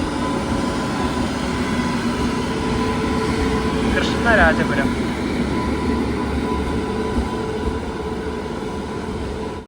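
An Intercity train hauled by a WP7 locomotive rolls in with a continuous, loud rumble and rattle, a steady wash of rail noise, while a voice speaks briefly midway.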